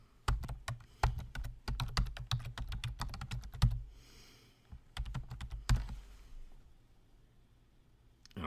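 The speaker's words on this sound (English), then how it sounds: "And let's type it in to confirm it." Password being typed on a computer keyboard: a fast run of crisp, close key clicks in uneven bursts, a short pause, then a few more keystrokes, with no talking.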